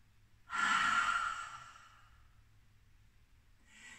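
A deep, loud breath drawn in through the mouth during a laughter exercise, a long breathy rush that fades over about a second and a half, followed by quiet and a soft second breath starting at the end.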